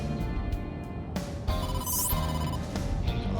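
An electronic phone ringtone for an incoming call in the video game A.I. The Somnium Files, ringing steadily over faint game background sound with a chime sweeping past midway.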